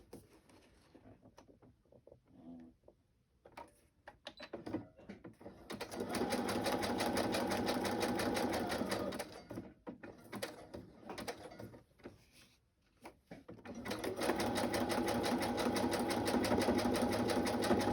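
A sewing machine stitches fabric scraps into shabby chic pockets, running in two long steady bursts of rapid mechanical whirring separated by quieter handling sounds and brief pauses.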